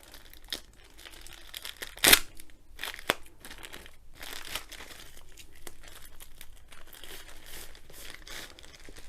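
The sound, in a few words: opening a plastic package by hand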